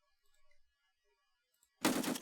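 A rapid burst of automatic gunfire from the video game Escape From Tarkov crackles in sharply and loudly after a near-silent stretch with only faint distant sounds.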